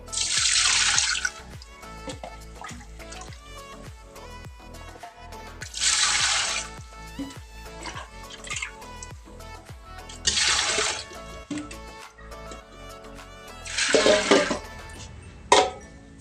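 Coconut milk measured out and poured while making suman, with several bursts of liquid splashing and trickling into a container, separated by quieter gaps filled with small clinks and handling noises.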